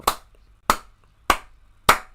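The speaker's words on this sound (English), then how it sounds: "Can we just have a round of applause" Four slow, evenly spaced hand claps, sharp and close, with silence between each.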